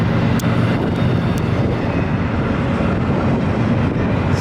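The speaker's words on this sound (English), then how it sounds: "This is an intermodal train." A BNSF intermodal freight train led by GE Evolution Series locomotives passes close by on the Seligman Subdivision at Flagstaff, a loud continuous rumble and roar of rolling wagons with faint high squeals, and no voices.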